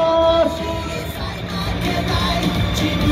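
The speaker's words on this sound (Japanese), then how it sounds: "大きな拍手お願いします。" A stadium crowd at Zoom-Zoom Stadium Hiroshima applauds and cheers after the ceremonial first pitch at a preseason baseball game. The roar is loud, dense and sustained, with yells rising over steady clapping.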